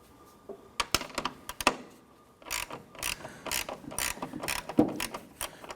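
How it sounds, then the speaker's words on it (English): A ratchet fitted with a 7/16 socket loosens the nut behind the marker light on a 1993-1997 Ford Ranger, giving close, crisp bursts of rapid clicking with short pauses between strokes. "Using a 7/16 socket, we're going to go ahead and remove the nut on the back side of our marker light."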